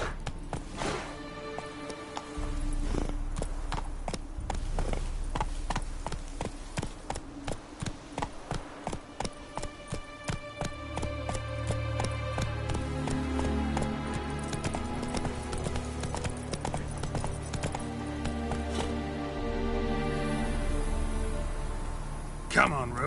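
Roach the horse gallops in The Witcher 3, steady clip-clop hoofbeats running throughout alongside ambient game sound and music, with a person speaking over it.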